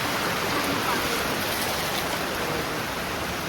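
Steady, dense rain pours down outdoors at a market stall, a loud continuous broadband wash with no distinct drops or voices standing out.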